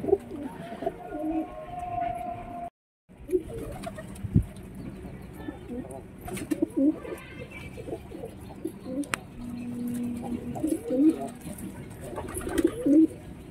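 Pigeons cooing in a hot coop alongside their young, soft repeated coos and faint chirps scattered through a quiet background, with occasional light knocks and faint talking.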